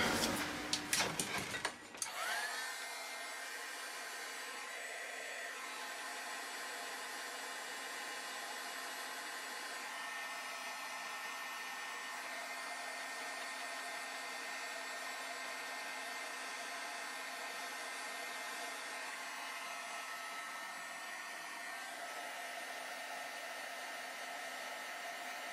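A heat tool blows steadily to dry and set shimmer relief paste in a craft project, a close, loud whooshing hum that starts after a brief clatter and runs unbroken throughout.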